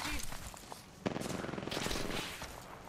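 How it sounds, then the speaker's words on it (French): Gunfire aimed at the player in the Apex Legends shooter, rapid automatic bursts at moderate distance, crackling through a dense noisy mix with a voice talking over it. "Oui, bah moi aussi on me tire dessus"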